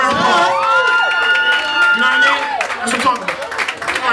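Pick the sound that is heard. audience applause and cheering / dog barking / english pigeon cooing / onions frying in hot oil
audience applause and cheering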